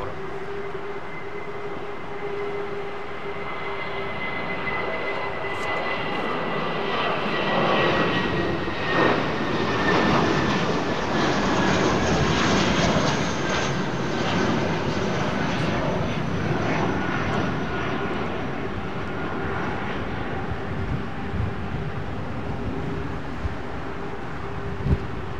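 A large aircraft climbs steeply out of London Heathrow under heavy power, its engine roar swelling into a broad, steady rumble and then slowly fading as it moves away.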